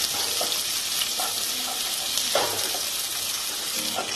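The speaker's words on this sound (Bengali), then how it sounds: "একটা বড় সাইজের পেঁয়াজ, পেঁয়াজটা লাল করে ভাজব," A large onion fries in a pan, browning for a Bengali-style potato bhaji, giving a steady close sizzle with a few light clinks and stirring scrapes throughout, no voices.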